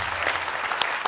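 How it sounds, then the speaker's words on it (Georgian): An audience claps at a televised comedy game show where contestants try to make others laugh to win. Soft, continuous applause with scattered individual claps sounds at a moderate distance. "აპლოდისმენტები"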